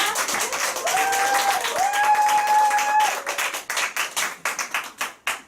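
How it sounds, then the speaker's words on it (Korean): An audience at a network-marketing training seminar claps in thanks for a lecturer, dense loud applause with a faint voice over it, thinning into scattered separate claps at the end. "서상사님께 감사 박수 부탁드립니다"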